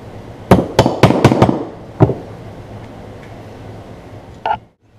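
Sharp, close taps of a plastic-tipped hammer seating bearings into a gearbox, a quick cluster of five followed by a single strike and a softer final tap, against a quiet workshop background.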